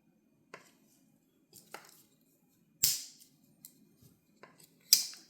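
Large blade of a 91mm compact Victorinox Swiss Army knife with titanium scales and G10 liners being opened: sparse quiet clicks and two crisp, louder snaps, close by in an otherwise silent room.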